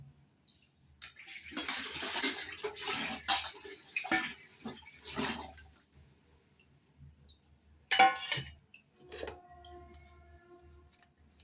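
Raw chicken rinsed by hand under a running kitchen tap, with broad splashing water for several seconds, then a brief louder burst and some light clinks of a bowl or utensils near the end.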